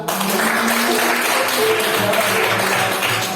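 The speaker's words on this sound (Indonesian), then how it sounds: "tepuk tangan buat" A classroom of students applauding their teacher, a steady wash of clapping lasting throughout at moderate loudness, with some tonal background hum and faint murmuring beneath it.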